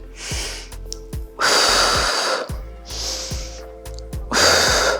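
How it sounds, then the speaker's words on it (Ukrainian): Loud, close breaths during a flat-belly and pelvic floor workout, alternating sharp hissing inhales and exhales in a slow rhythm, with low thumps underneath and no talking. "Вдих. Видих."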